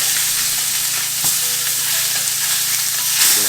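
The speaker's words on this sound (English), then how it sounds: "so now let's flip our cobia" A blackened cobia fillet sizzles loudly in a hot pan, a steady close hiss punctuated by a sharp clack as it is flipped, with no talking.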